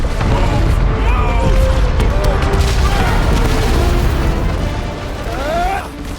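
Loud, rumbling explosions fill a scene in the Guardians of the Galaxy video game, with sustained booming blasts and debris under overlapping character voices speaking throughout.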